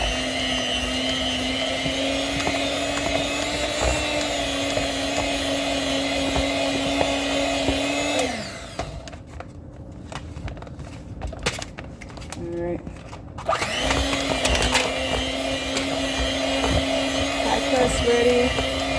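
An electric hand mixer whirs steadily through cheesecake batter with vanilla, a loud high motor drone that stops for about five seconds, then starts again and runs on.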